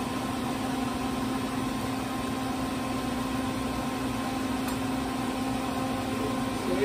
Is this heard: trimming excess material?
no